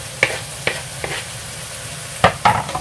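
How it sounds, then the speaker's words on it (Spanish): Onion is stirred into browned meat frying in a pan, giving a steady close sizzle broken by several sharp scraping stir strokes, with no talking. "Ahora le agregamos la cebolla a ese punto."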